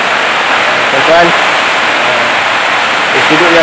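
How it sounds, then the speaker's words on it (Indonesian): Heavy rain pours steadily as a dense, constant hiss at a durian orchard, with someone talking over it throughout. "Hujan lebat hari ini."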